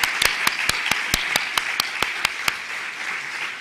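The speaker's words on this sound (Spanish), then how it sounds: "Un fuerte aplauso" Sparse, evenly spaced handclaps from an audience at a conference talk, about a dozen crisp claps in a steady rhythm that taper off after a few seconds, fairly close and without voices.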